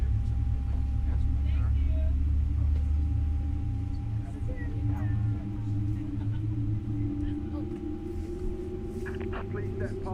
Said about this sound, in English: Oh, here comes the rumble.